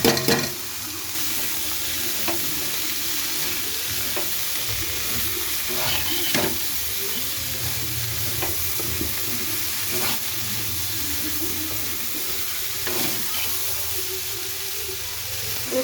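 Boiled figs fry in a thick spice masala, a dense continuous sizzle with steam hiss and occasional scraping thumps from stirring, close and steady throughout.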